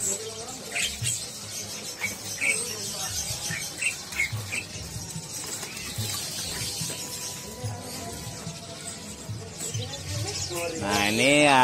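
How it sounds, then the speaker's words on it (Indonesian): AF super canaries sing in a bird shop kiosk, scattered chirps and warbling trills rising among other caged birds, with someone talking over them and a louder trilling burst at the very end. "Nah ini ada kenari AF super ya, ini udah pada gacor."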